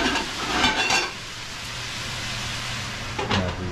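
Dhal cooks in a pot on the stove over low heat, giving a steady close simmering sizzle with a few louder stirring scrapes at the start and near the end.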